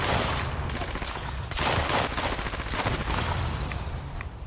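Continuous rapid gunfire from an enemy gunner in Fallout 76 rattles on throughout, dense and loud with slight surges in intensity and no talking over it.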